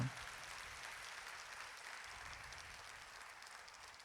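Audience at a Rajyoga spiritual gathering claps steadily, producing a continuous, even wash of applause that holds at a moderate, fairly distant level throughout.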